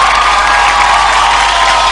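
A crowd at a comedy show claps and cheers loudly to welcome comedian Dipoo Srivastava, a continuous, dense wash of applause with no break.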